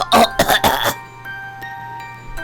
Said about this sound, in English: Viola took to a coughing fit.